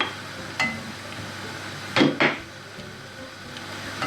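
Chopped carrot goes into a pan of sautéing onion, giving a few close, sharp clatters and knocks of pieces and utensil against the pan over a quiet background, with no talking.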